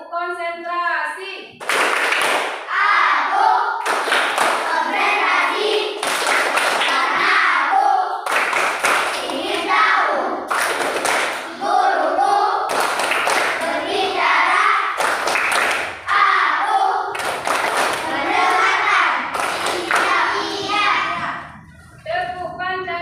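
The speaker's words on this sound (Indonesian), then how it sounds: "Tepuk konsentrasi." A classroom of children claps a rhythmic concentration clapping game: repeated bursts of sharp claps in set patterns, separated by short pauses, with children's voices chanting and a teacher speaking between and over the clapping.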